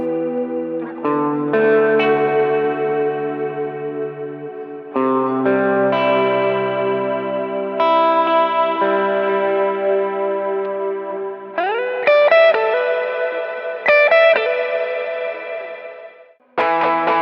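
Electric guitar run through an Ampero II Stomp effects processor on a church-style preset: sustained, distorted chords and ringing notes with chorus and echo, played loud and close with no talking.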